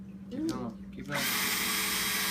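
Power drill boring a lanyard hole through a fatwood pine handle, close and loud, whirring in short bursts before running continuously, with a voice speaking briefly near the start.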